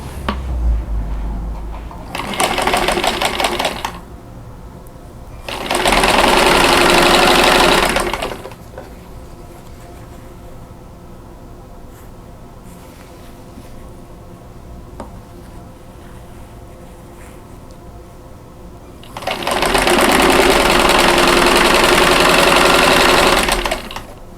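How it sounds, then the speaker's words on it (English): A sewing machine stitches quilt pieces for a Christmas star table topper in three separate loud whirring runs, two short ones close together near the start and a longer one near the end, with quieter handling between. "So I'm going to sew a dark to a light and make 2 rows of 2."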